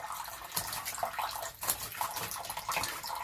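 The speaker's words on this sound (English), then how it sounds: "It's shower time." Shower water runs steadily while a green-cheeked conure bathes, a continuous hissing spray with faint splashy flutters, close and fairly quiet, no one speaking.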